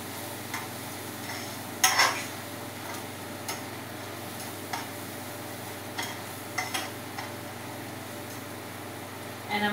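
A spoon stirs turmeric powder into curry in a pot, giving soft, scattered scrapes and taps against the pot over quiet background hiss.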